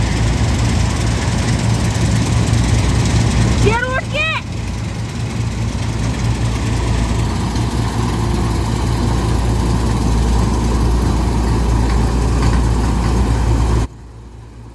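A wheat harvesting machine runs in a field with a loud, steady engine drone, broken by a brief burst of high chirps partway through, until the noise abruptly drops near the end.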